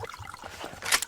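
A brief trickle of water onto crops in the survival game Subsistence, soft dribbling that ends in a slightly louder splash, alone without talk.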